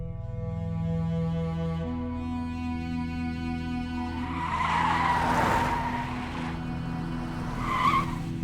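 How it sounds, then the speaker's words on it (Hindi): Car pulling out with tires skidding and squealing loudly after a steady idling engine hum, followed by a second brief screech near the end, no talk. "बादशाह, गाड़ी निकलो।"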